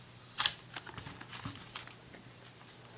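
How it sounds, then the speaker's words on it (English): Plastic wrapper being peeled off the small packaging of a 2 GB fourth-generation Apple iPod Shuffle: a few sharp crinkles and tearing scratches up close, with quieter rustling between them and no voice. "So let's just peel off this wrapper."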